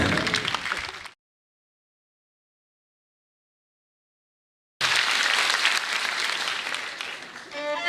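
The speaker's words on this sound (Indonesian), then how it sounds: "Tepuk tangan sekali lagi untuk" Audience applause for stand-up comedian Dodit fills the opening second, breaks off into silence, then returns loud and sustained for the last three seconds with cheering mixed in.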